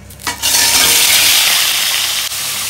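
Cut paneer pieces drop into hot oil in a wok and burst into a loud, sustained, close-up sizzle that stays strong throughout.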